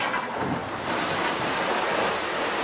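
Big ocean rollers rush and hiss under a Seawind 1160 catamaran sailing fast in the Whitsunday Islands, with a broad, steady wash of wave and wind noise growing louder after the first second.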